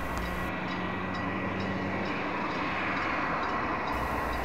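A Hokuriku Railway Ishikawa Line electric train from 1989, with nose-suspended traction motors, runs toward Kaga-Ichinomiya, giving a loud, steady rumble and motor whine that stays close and unbroken from start to end.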